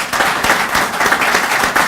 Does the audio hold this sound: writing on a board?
no